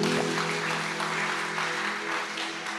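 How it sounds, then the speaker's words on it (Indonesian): Congregation applause during an Indonesian church sermon, a steady dense wash of clapping hands filling the whole moment at moderate loudness, with a sustained organ or keyboard tone beneath it. "Tepuk tangan."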